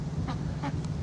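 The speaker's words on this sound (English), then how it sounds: "And that's my duck." A domestic duck gives three short quacks in quick succession, close and distinct, over a low steady background hum.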